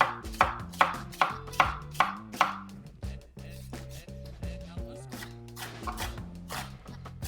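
Knife chopping onion on a board for a sauce: a quick even run of sharp chops, then slower, scattered cuts, close up, with a voice speaking softly underneath.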